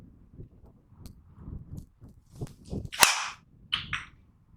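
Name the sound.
golf driver striking ball, tinny hollow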